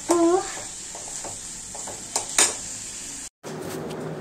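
Sliced onions sautéing in a pan for egg curry, a steady faint sizzle with occasional clinks of a spoon against the pan, and a voice briefly at the start.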